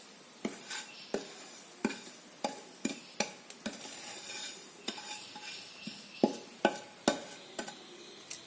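Roasted rava is stirred into sugar syrup for rava laddu, with a spoon clinking and scraping against the pan in sharp, regular knocks over a soft bubbling sizzle.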